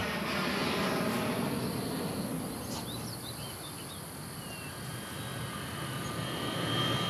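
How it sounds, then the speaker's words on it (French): An airplane passes over an airport, its engine roar a steady broad rumble that swells, dips slightly and rises again across several seconds, moderately distant, with no talking. "il y a toujours un avion pour passer par là au mauvais moment"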